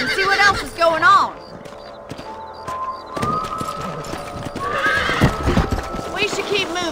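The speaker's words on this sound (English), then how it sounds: "Let's get back on the horses and see what else is going on." Horses in the Red Dead Redemption game whinny and neigh loudly with clip-clopping hooves, voices talking over them throughout.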